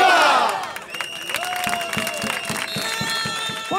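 A crowd at a Spanish police demonstration cheers and shouts, loud and dense at first, then thinning into scattered whistles and calls with a rhythmic clapping or drumming pulse.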